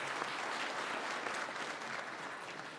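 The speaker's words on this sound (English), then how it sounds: "And a round of applause to them" Audience applause at a speech on artificial intelligence, steady and fairly soft, heard from a distance and fading slightly toward the close.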